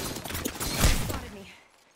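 Gunfire rings out in Apex Legends, a quick burst of several shots peaking in one heavy blast before fading, with a voice talking underneath.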